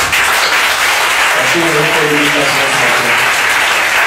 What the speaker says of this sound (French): Nous vous demandons d'abord de vous applaudir.